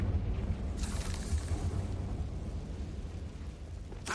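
Confringo blasting spell going off in the Hogwarts Legacy video game: a loud, sustained rumbling explosion with a sharp burst near the start and another crack at the end, and no talk.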